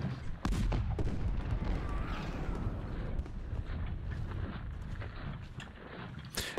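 Civil War cannon fire in Ultimate General: Civil War, several distant booms and sharp reports over a busy battlefield rumble, with a loud crack at the start and another near the end.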